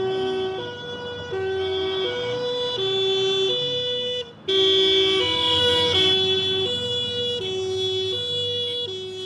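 An Ethiopian Red Cross ambulance siren from 1984 in a suburb, a loud, close two-tone wail alternating high and low in a steady rhythm, briefly cut off once before resuming, with no talk.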